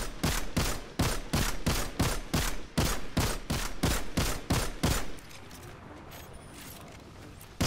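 Sniper rifle gunfire in the video game Destiny 2, a rapid, evenly spaced string of loud, sharp shots close by, about fifteen in five seconds, then fading to a quieter background hum.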